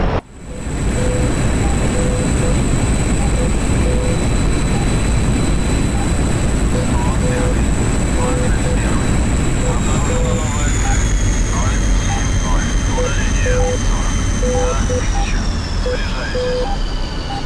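Fighter jet engine in the DCS World flight combat game, a loud continuous turbine roar with a high whine that slowly drops in pitch, with beeping cockpit tones and voices talking over it.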